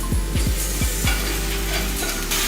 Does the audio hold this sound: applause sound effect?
no